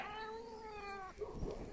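A cat at an animal shelter lets out one long, drawn-out meow, close and fairly clear, followed by a brief rustle against a quiet room background.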